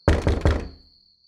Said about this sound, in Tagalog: Hindi sumagot ang nasa labas ng pinto. Sa halip, mas nilakasan pa nito ang ginawang pagkatok.